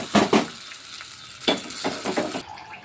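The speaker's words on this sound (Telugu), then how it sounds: "తాలింపులో పచ్చడి వేసుకొని" Coconut chutney dropped into a hot oil tempering, bursting into a loud sizzle with a few stirring scrapes, then settling into a softer fizz before cutting off abruptly near the end.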